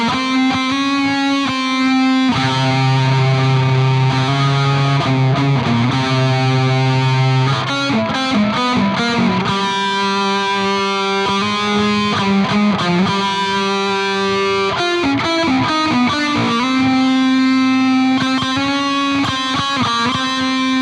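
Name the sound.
distorted metal lead guitar tone with reverb and delay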